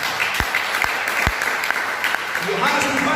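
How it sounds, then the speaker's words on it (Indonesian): Applause from a church congregation, a busy spread of clapping broken by a few sharp, louder claps close by, with voices faintly underneath near the end. "Tepuk tangan bagi Allah."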